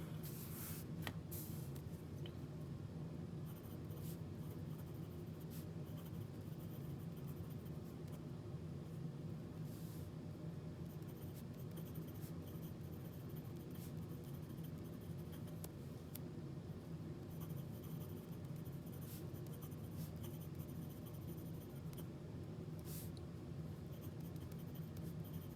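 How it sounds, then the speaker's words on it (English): A pen scratches steadily across paper, writing a sample in Ferris Wheel Press fountain ink, faint and close with a soft continuous scratch and occasional light ticks. "I'm going to be doing a writing sample or excerpt from one of my favorite"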